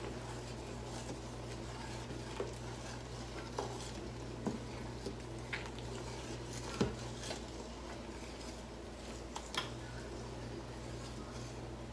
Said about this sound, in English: I'm going to go ahead and stir it a little bit